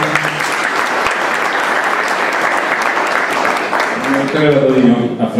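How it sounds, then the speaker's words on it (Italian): Audience applause at an arts venue opening in Nardò, a dense burst of clapping that carries on steadily, with a short swell of cheering or voices near the end. "Un applauso."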